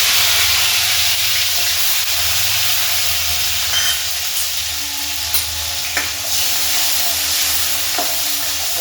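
Asafoetida and green garlic dropped into hot oil with cumin seeds, giving a steady, close, loud sizzle and hiss with a few scattered pops and crackles, no voices.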